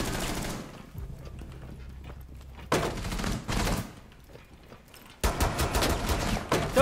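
Pistol gunfire in the video game Rainbow Six, with loud bursts of shots in separate clusters broken by short quieter gaps, close and punchy, with no talking.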